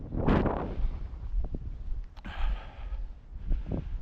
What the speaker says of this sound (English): Ooh, windy. That wind blows.